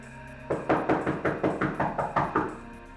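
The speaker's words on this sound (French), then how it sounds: "on entendit quelqu'un frapper à la porte" A run of about nine firm, evenly spaced knocks lands on a door, close and loud, against a steady low background hum.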